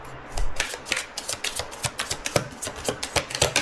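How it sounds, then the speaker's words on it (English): Tarot cards pulled from a deck and shuffled, giving a run of quick, crisp papery flicks and riffles in an uneven rhythm, close and moderately loud, with no voices. "Let's pull a few more cards here."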